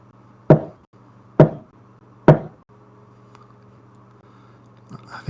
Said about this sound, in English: I think that's the sound of tiny footsteps.